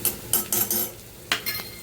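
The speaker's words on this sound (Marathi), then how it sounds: "एकदम छान खमंग भाजायचं आहे बेसन." Gram flour (besan) being stirred and roasted in a pan, with a spoon scraping and clinking against the metal in several short, close bursts and no talking.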